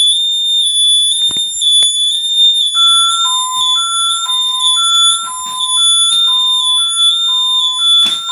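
Repeating electronic chime tones in a steady stepped pattern over a constant high-pitched beeping tone, loud and close, from an ADT SafeWatch Pro 3000 home security alarm going off.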